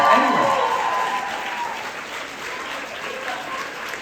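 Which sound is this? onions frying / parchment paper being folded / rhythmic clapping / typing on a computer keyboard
rhythmic clapping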